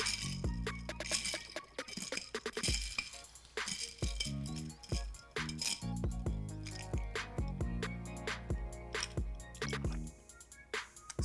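Ice clinks and rattles against a glass as a dairy-free iced pumpkin chai latte is stirred, a rapid run of bright, close taps and chimes that keeps going without pause, with no talking.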